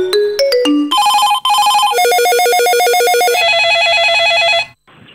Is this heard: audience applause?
no